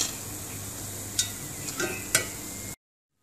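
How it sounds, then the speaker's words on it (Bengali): Potato and noodle snacks frying in a pan, a steady sizzle with a few sharp clinks of a utensil stirring, ending abruptly in silence. "এইভাবে আমি বাকিগুলো ভেজে নেব।"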